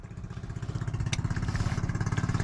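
A large boat's engine starts up and settles into a steady, close, rhythmic chugging that grows a little louder and faster as it runs.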